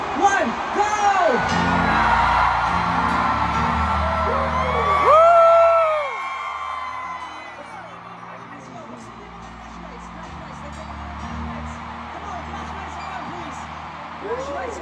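A concert audience at a pop kickoff event shouts back in unison on cue, a loud, sustained mass yell with whoops that surges around five seconds, then fades into scattered crowd noise.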